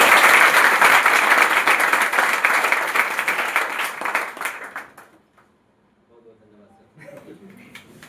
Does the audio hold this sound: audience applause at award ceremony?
yes